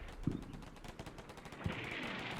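Strafing gunfire in the Combat Mission: Black Sea war game, heard as distant rattling bursts with a couple of heavier thumps, quiet under steady background noise.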